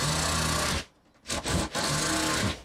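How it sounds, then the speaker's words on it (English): Screws driven into the top of a wooden hex bar rig with a power drill: a loud, close, sustained grinding whir that stops briefly and then resumes in two shorter bursts. "drive in the screws"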